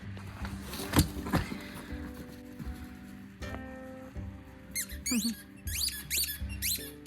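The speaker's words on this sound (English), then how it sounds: "Oh no, it's the squeaky ball." Squeaky dog toy ball: a few sharp, high squeaks come late in the clip over a low, uneven background of rustling and handling noise.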